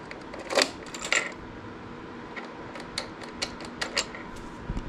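Keys are tried in the lock of an Onyx RCR battery case, with a few sharp metallic clicks and jangles at the start and then lighter scattered ticks and scrapes, close by with no talk.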